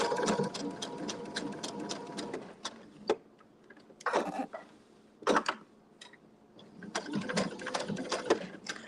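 A sewing machine stitches a free-motion quilted floral block, running in rapid bursts broken by short pauses and clunks, close and fairly loud with no talk.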